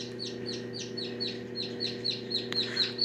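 A bearded muff chick, among the first hatched from a muff hen, peeps repeatedly in a steady run of high chirps, close and clear over a faint background hum.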